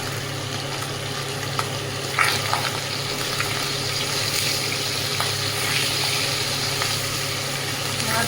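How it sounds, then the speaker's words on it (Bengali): Local shing fish frying in hot oil: a steady, dense sizzle runs the whole way through, with a few louder spits and crackles near the middle, heard up close and without speech. "মাছগুলো সুন্দর ভাজা হয়ে গেছে"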